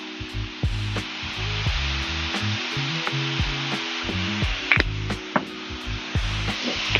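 Food sizzling and frying in a pan with soy sauce drizzled in, a loud continuous crackle and hiss with sharp pops and spits, close up and without voices.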